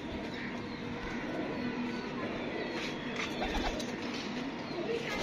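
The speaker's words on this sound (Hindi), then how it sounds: "ये सब आपको रेड आइज कबूतर दिखा रहा हूँ जितने भी" Red-eyed pigeons in a loft setup coo softly amid a noisy ambient background, with occasional faint calls and someone talking quietly nearby.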